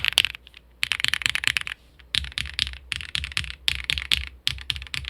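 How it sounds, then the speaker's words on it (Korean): Fast typing on a KBDfans Odin V2 full-size custom mechanical keyboard: close, crisp clacky keystrokes come in dense bursts separated by brief pauses, with no voices. "제대로 타이핑을 해보죠"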